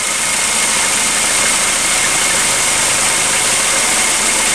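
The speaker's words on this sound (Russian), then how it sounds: "Работа двигателя на холостом ходу." Close and loud, the 2.0-litre 16-valve J20A four-cylinder of a 2008 Suzuki Grand Vitara with 341,630 km idles evenly, a constant engine drone with a slight vibrating hum throughout.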